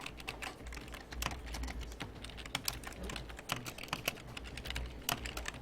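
Code being typed on a computer keyboard, a steady stream of quiet close key clicks at an uneven pace with no talking.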